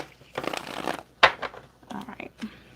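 Tarot cards riffle and shuffle in quick papery bursts, a few separate rounds with short pauses between, close by and fairly quiet.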